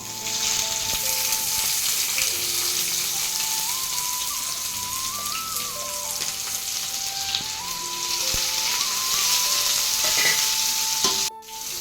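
Onions frying in oil with fennel seeds, cinnamon, cloves and bay leaf, a dense continuous sizzle like rain on a surface, with a faint melodic tone running through the background.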